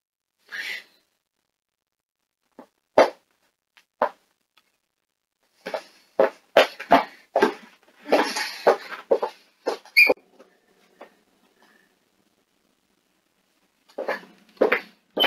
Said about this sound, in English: you guys better stop coughing.